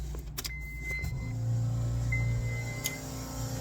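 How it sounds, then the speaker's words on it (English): A FueLab Prodigy 1800 fuel pump runs in low speed mode, giving a steady, fairly quiet low hum that settles in after a few faint clicks and continues evenly. "Today we're going to show you the FueLab Prodigy 1800 sound on both high and low modes."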